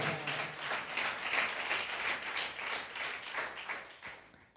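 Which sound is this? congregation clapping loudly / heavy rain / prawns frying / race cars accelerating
congregation clapping loudly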